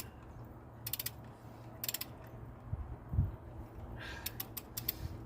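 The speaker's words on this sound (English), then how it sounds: "I am just getting them, all the bolts, so that they are tight to the head." A ratchet wrench snugs down cylinder head bolts on a Ford Mustang engine under reassembly, quiet close bursts of quick clicking repeated several times with pauses and a low clunk between.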